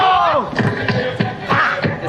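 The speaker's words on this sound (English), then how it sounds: "everyone's cheering with their Corona Ceros to wrap up what's been a beautiful gathering party" A crowd of surfers and guests at an evening gathering party during the WSL Finals in Fiji shouts and cheers, raising Corona Ceros, with several loud bursts of whooping voices rising and falling over two seconds.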